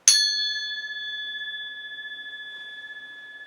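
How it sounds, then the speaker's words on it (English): A single bright metallic strike rings out during a meditation session, a clear high tone with sharp attack that sustains and slowly fades over several seconds, heard alone in a quiet room. "So I'm going to ring the gong and just lightly focus on your third eye."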